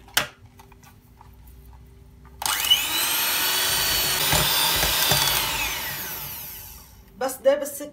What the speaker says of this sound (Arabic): بخفقن على سرعة عالية ليدوب السكر